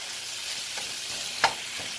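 Lean ground beef frying in a pan on high heat, a steady close sizzle with one sharper pop and crackle partway through.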